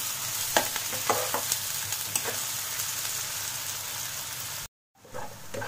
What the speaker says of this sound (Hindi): और प्याज को हमें अच्छे से फ्राई करना है, कलर चेंज हो जाने तक हम इसे 5-6 मिनट अच्छे से फ्राई कर लेंगे।